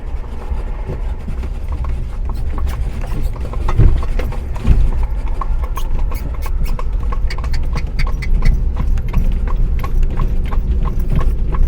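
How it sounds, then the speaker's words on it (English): Horse hooves clip-clop steadily while pulling an Amish buggy through traffic, a close, continuous rhythmic clatter over a low rumbling road and wheel noise. "These horses are real good. They're used to being in the traffic"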